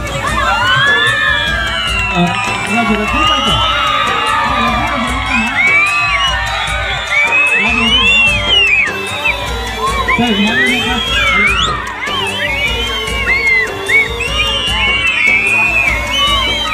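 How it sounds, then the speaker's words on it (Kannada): Audience at a school teacher-thanking ceremony cheering, whooping and shouting, many children's voices overlapping in a loud continuous crowd roar with some clapping mixed in. "ನಿಮ್ಮೆಲ್ಲರ ಜೋರಾದ ಚಪ್ಪಾಳೆ ಮುಖಾಂತರವಾಗಿ ಧನ್ಯವಾದಗಳನ್ನು ಸಲ್ಲಿಸೋಣ"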